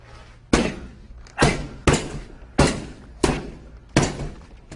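Power punches landing during a boxing lesson with a coach, six heavy thuds at a steady rhythm about every half second to second, close and loud, each hit followed by a short decay.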